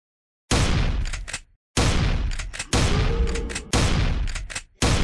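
Video game gunfire from the game Invention rings out in four loud, heavy bursts of shots, each trailing off before the next, with no talking over them.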